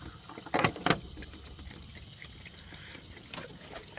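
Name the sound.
hose refilling Dodge Viper cooling system with water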